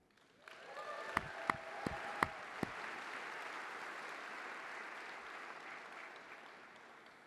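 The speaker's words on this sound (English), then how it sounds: "Let's give a quick round of applause" An audience at the 43North startup competition finals night applauds in a broad, sustained wash, with a few sharp individual claps standing out near the start before the sound slowly tapers.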